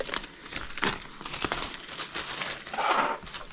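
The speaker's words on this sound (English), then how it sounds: "I will just make some noise while removing the plastic" Plastic wrapping is pulled off a boxed Holbein set of 150 paint colours, with continuous close crinkling and crackling, a few sharper rips, and a louder rustling burst near the end. No voices.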